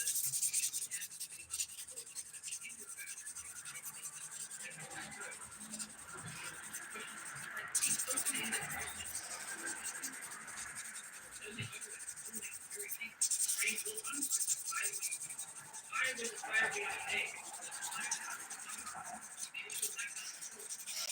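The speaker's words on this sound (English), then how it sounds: "I'm going to buff them now." Fingernails buffed with a soft 100/180 grit sponge file during a brown-to-black ombré dip powder manicure, giving close, continuous light rubbing and scratching strokes with a few sharper scrapes, alone and fairly quiet.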